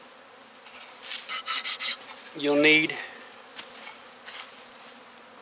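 A low, steady hum of many honeybees buzzing around an open hive late in the year, with rustling and scraping handling noises and someone briefly speaking midway.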